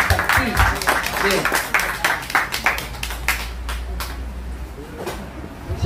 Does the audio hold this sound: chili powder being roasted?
no